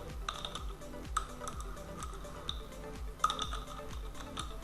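Close, steady typing on a computer keyboard, with rapid irregular key clicks and occasional louder strokes while an address is entered, with no talking.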